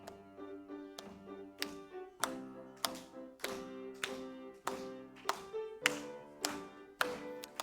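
A church congregation at a Wednesday service clapping in time to a hymn; steady, evenly spaced claps ring out nearly every half second over a sung melody with sustained musical tones.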